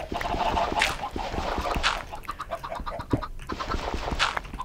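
Chickens in the video game Minecraft cluck in short, close bursts, several calls repeating irregularly with no talk over them.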